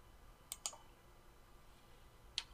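Three sharp, quiet clicks of a computer mouse while working in Autodesk Revit 2017, two close together and one a couple of seconds later, over faint room hiss.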